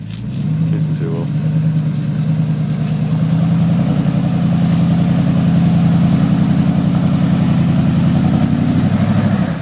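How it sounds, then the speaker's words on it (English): Front-wheel-drive Chevrolet engine pulling up a hill, a loud, steady, low rumbling drone close by, with people talking over it. "I just climbed that with a front wheel drive."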